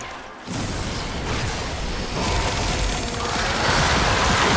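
Rapid, continuous automatic gunfire from a video game, dense and loud, growing heavier over several seconds with a sharp start after a brief quiet.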